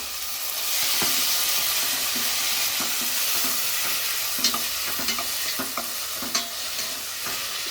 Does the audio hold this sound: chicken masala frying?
yes